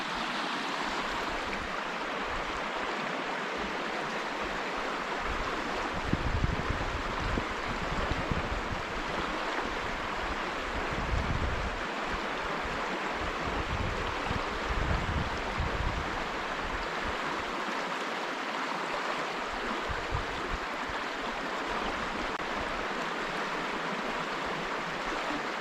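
Close and constant, the Hoh River streams by in the Hoh Rain Forest of Olympic National Park, a continuous rushing wash with slight swells and occasional wind buffets, and no one speaking.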